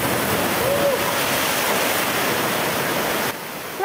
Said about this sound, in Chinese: 浪花打上码头，引起民众惊呼。